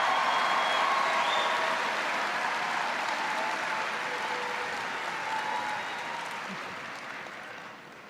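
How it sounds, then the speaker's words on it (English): A large audience applauds at the 2023 West Carrollton High School commencement, with steady, dense clapping that lasts the full stretch and gradually tapers in loudness. "Please give her a round of applause for this amazing compliment."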